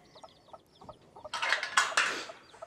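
Up close, a hen with her chicks makes soft clucks while the chicks give high, repeated peeps, then a louder burst of squawking and flustered calls.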